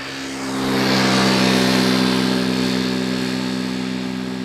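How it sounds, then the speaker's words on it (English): A KLM Embraer E190 jet arriving from Krakow lands at Amsterdam Schiphol, a steady loud engine roar with a tonal hum that swells in after half a second and holds near, slowly easing. "another Embraer E190 coming in from Krakow in Poland"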